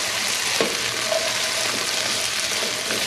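Food fries in hot coconut oil with a steady, close sizzle and faint crackles, plus a brief stir or scrape partway through. There is no talking.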